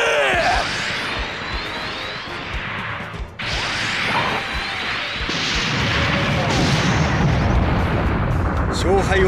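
A laser cannon fires in Super Robot Wars 30, filling the scene with a loud, sustained roaring blast and whooshing sweeps, a brief dip midway, then a renewed rumbling surge, with a voice briefly heard under it.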